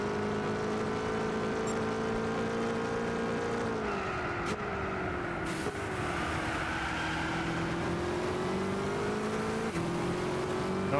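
A race car engine in Gran Turismo 6 drones steadily throughout, its pitch dipping and climbing with shifts and throttle changes, with brief clicks along the way and no voices.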